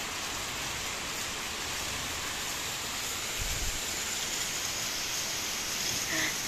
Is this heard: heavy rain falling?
yes